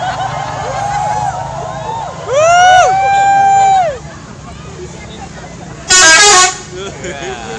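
Bus horns playing the telolet tune in Jepara: two loud musical horn melodies with rising and falling tones, the second shorter and brighter, over street noise and a crowd chattering.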